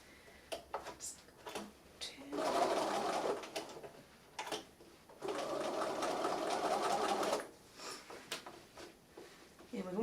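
Sewing machine stitching slowly and gently over a double-thickness foot dart on a plush bunny, two sustained whirring runs of about two seconds each, separated by quiet pauses with soft ticks.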